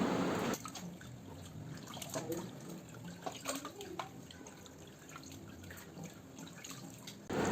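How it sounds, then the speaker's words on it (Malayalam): Meat washed under a running tap for a festive Eid feast, a steady splash and trickle of water with small drips and clatter, moderately close throughout. "അപ്പോൾ ഇറച്ചി കഴുകാനുള്ള പരിപാടിയിലാണ് കേട്ടോ."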